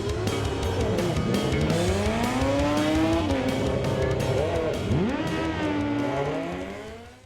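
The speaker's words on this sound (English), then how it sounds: "that's a 750 at 195 miles an hour from a 500 horsepower motorcycle" A 500-horsepower drag racing motorcycle tears past at about 195 mph, its loud engine note sweeping up and down in pitch with a sustained roar that fades slightly at the end.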